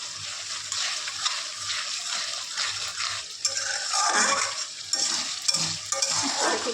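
A spice paste being sautéed and stirred in oil for a rohu fish curry with potatoes: steady sizzling with irregular scraping stirs and a few light clinks of the spoon against the pan, continuous and close.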